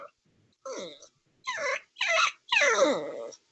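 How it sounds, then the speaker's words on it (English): A puppy gives a series of four short, high yipping barks, the last one longer and strained, close by with quiet gaps between them. "Is anybody in the channel hearing the puppy bark?"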